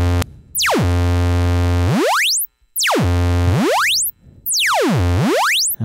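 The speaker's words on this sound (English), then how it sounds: "attack is raising the pitch, decay is lowering it" A synthesizer tone shaped by a Buchla Tip Top Audio 281t Eurorack function generator sweeps steeply up and then down in pitch, three times in a row, loud and alone with brief gaps between sweeps.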